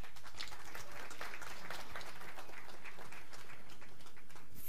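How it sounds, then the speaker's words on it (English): Spectators at a women's 10m air rifle standing para shooting final clap in a quiet, steady patter, faint and distant in the hall. "Give me your applause for everybody."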